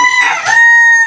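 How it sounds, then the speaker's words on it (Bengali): A rooster crows once at a pigeon seller's stall, a loud, close, sustained harmonic call with a rising start that holds steady to the end, heard alone. "এদিকে মোরগ ডাকতে আছে"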